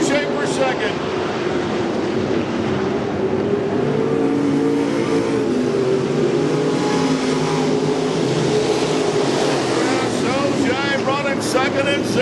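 Pure stock and sportsman dirt track stock cars race at I-55 Raceway, a dense continuous roar of several engines circling the oval, loud and steady with occasional revving swells, while an announcer calls the action over it.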